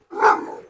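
A Cane Corso named Carlos lets out a single loud, close, agitated bark.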